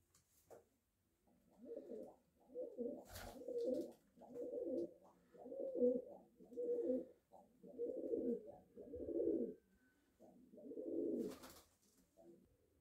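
Pigeons cooing close by, a series of about nine rolling, throaty coos repeating in a steady rhythm, with a brief sharp noise or two between them and no talking.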